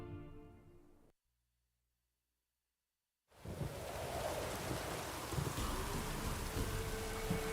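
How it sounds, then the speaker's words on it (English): Steady rain from a drizzle in The Witcher 3, a broad continuous hiss that starts after a short silence and holds at an even, moderate level to the end. "Oh, it's drizzling."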